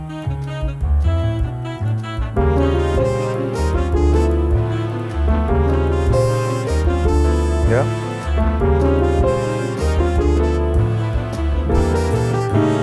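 A solo piano plays a jazz excerpt in an intermediate arrangement, with a steady rhythmic bass line under chords and melody, loud and close, and a brief spoken word near the start.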